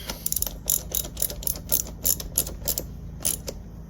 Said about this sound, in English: tighten them screws, them nuts, make sure they're nice and tight